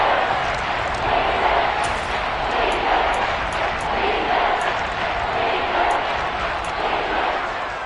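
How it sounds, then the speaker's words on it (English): Stadium crowd in a Madden football video game, a steady roaring wash of cheering ahead of a big third down, with broadcast commentary talking over it throughout. "the crowd getting into it as we come up on a big third down"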